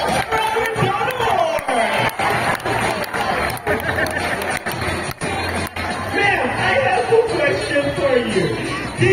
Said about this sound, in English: A round of applause for our donor!